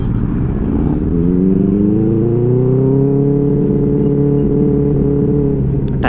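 A Benelli 600i motorcycle rides along a highway. Its engine drones steadily and loudly throughout, with harmonics rising as it speeds up, over a constant rumble of wind and road. Nobody speaks.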